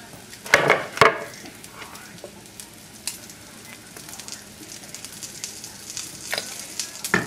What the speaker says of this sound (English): we're going to saute that in a little olive oil all together